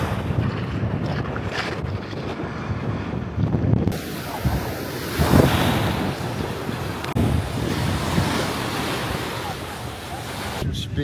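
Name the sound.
ocean waves and wind on Miami Beach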